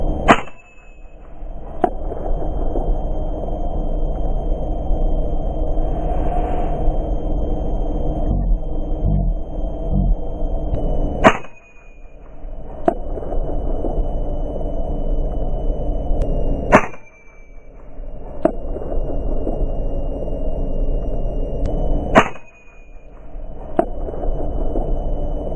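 Gunshots fired at starlings from beside a barn ring out as five sharp cracks spaced several seconds apart over a steady windy rumble, each report loud and followed by a short ringing tail.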